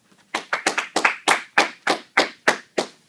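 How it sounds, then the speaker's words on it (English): About ten separate, sharp hand claps ring out one after another at an uneven pace, sparse and close, like a small group applauding rather than a full crowd. "A round of applause for Jay."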